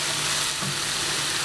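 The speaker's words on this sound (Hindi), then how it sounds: "अब मैं इसके अंदर ऐड करूँगी प्याज" Onions sizzling as they fry in hot oil with spices, a dense, steady crackle and hiss close up that fills the whole short moment without a break and with no voices.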